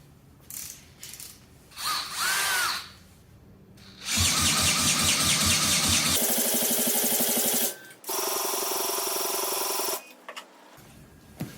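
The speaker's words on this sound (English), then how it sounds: "chuck a drill on this thing and see if we can get it kicked over" A power drill whirs in loud bursts, spinning a supercharged, fuel-injected Honda CL175 motorcycle engine running E85 with a rapid mechanical clatter; short pauses separate each long cranking run.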